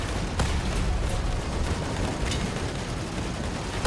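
Narwal Cannon shots in a video game, a loud, continuous barrage of booming blasts with a few sharper cracks standing out, no voices heard.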